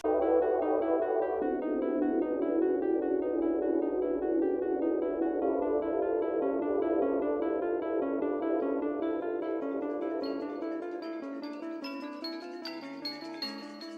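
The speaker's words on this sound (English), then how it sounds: "based on dissonant synthesizer tones with creepy noises in the background" Dark, dissonant synthesizer tones from Twilight Princess game music drone steadily, layered and eerie, thinning out toward the end with sparse higher chimes.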